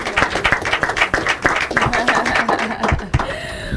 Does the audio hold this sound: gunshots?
no